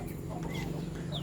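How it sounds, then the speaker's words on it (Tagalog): Small native chickens cluck softly in quick, close murmurs over a low steady hum, with a brief higher chirp. "Yung maliliit na mga manok ko guys."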